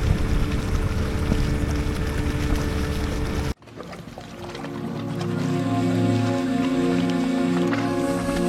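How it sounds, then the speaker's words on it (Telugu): A motorboat ride through the mangrove backwaters at Honnavar: a steady, loud engine drone with wind and water noise, a brief sharp dip, then the engine hum returns and holds. "ఈ అందమైన బ్యాక్ వాటర్లో నిజంగానే ఈ బోటింగ్ అనేది చాలా అద్భుతంగా ఉంది"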